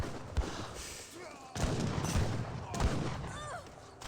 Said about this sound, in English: The villagers here need to stop shooting their gun and run away.